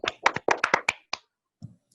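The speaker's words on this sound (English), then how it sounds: "would like everybody to unmute yourself and give a huge round of applause to Puneet." Scattered hand claps from several people unmuted on a video call, about a dozen sharp, uneven claps in a quick burst, then a couple of isolated late ones trailing off into near silence.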